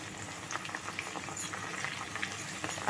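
Leaves fry in oil over a low gas flame for a homemade hair oil, giving a soft, continuous bubbling sizzle with faint crackles, quiet and close, with no voices.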